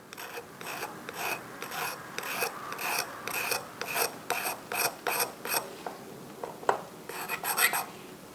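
A 320 grit abrasive stone rubs back and forth across a metal watch case prototype, giving a steady series of close, rhythmic rasping strokes with a short pause before the last quicker strokes.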